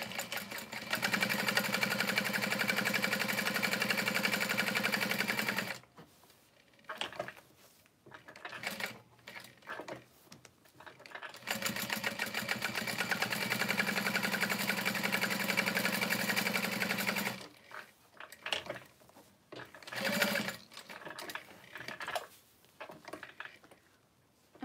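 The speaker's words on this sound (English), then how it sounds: "I'm gonna top stitch along both sides." A sewing machine top stitches along the sides of a handbag in two long, steady runs, each about five to six seconds, with quieter handling and fabric shuffling between them.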